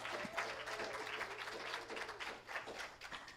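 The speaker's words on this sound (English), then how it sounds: "One more round of applause for Ashley." A congregation at a Sunday church service gives a round of applause, faint and distant, with clapping that swells and eases over a few seconds.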